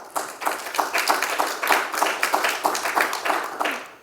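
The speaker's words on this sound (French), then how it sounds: "c'est les 2000 personnes qui applaudissent" Clapping closes an online medical conference presentation. The claps come quick and evenly spaced, close and fairly loud, with no voices over them.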